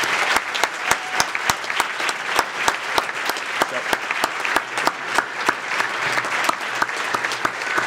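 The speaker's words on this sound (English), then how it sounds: "give a big round of applause for everybody here in Montreal who's helped" Applause from an audience at the closing of the FORCE2018 gathering in Montreal, a steady dense clapping with sharp louder claps cutting through at a fairly even rhythm for the full eight seconds.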